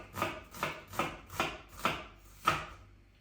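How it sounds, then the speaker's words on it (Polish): A knife slicing a white onion into half slices on a cutting board, six evenly spaced crisp chops about half a second apart, close and clear with no talk. "I jak widzicie, cebulę kroję pół plastki."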